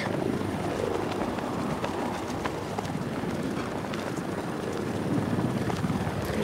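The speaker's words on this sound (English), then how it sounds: "There's drones flying around down there." Drones in Batman: Arkham Knight keep up a steady whirring rotor drone over a dense game soundscape, with footstep-like thuds and scattered clicks mixed in.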